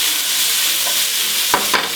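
Steaks frying in duck fat in a pan, with a steady loud sizzle and two brief scraping clicks near the end as they are turned.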